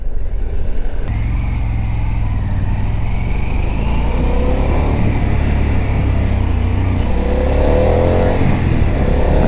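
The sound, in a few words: Harley-Davidson Pan America Special motorcycle engine pulling away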